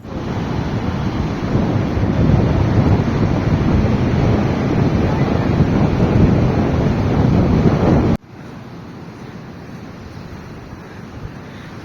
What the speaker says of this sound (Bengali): যথারীতি সমুদ্র যেরকম হয় সেরকম আর এখানে ঢেউও ছিল কিন্তু বেশ ভালোই